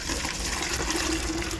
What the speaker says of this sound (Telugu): నేనైతే ప్లాస్టిక్ బాటిల్లోనే వేస్తున్నాను